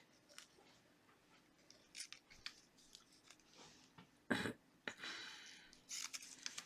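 Scissors snip and trim paper for a small gluebook spread, a few quiet irregular cuts with soft handling rustles between them, close and faint.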